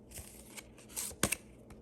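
Tarot cards are shuffled with soft, faint riffling and slapping sounds, including a couple of brief, sharper card snaps near the end.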